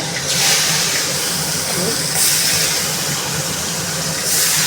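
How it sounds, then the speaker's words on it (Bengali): Pieces of katla fish rubbed with salt and turmeric fry lightly in hot oil in a wok, giving a loud, continuous close hiss and sizzle that swells slightly in waves. "মাছটা এবার ভেজে নেব হালকা করে"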